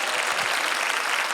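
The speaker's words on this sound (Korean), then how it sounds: "두 손을 들고 아멘하여 하나님께 뜨거운 감사의 박수를 던집시다." A large crowd at an outdoor peace and reunification prayer rally, held at the War Memorial in Yongsan, applauds loudly and continuously in a dense, even wash of clapping.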